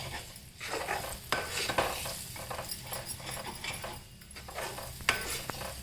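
Spoon stirring a thickening besan gram flour mixture for vada in a pan over low heat, repeated close scraping strokes in an uneven rhythm over a soft sizzle, no voices.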